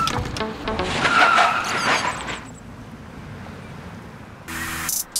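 A car brakes hard on a driving-safety training track, its tires squealing and skidding loudly for about two seconds before fading into a quiet, low rumble; a short burst of other noise follows near the end.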